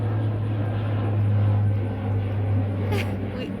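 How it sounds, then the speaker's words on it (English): A steady, droning hum of an airplane passing over an air base, continuous and moderately loud with a low engine tone, heard from a distance outdoors with no talking. "Airplane."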